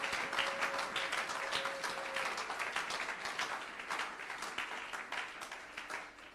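A church congregation breaks into sustained applause that rises and falls in dense, rapid claps throughout, filling the room without any spoken words.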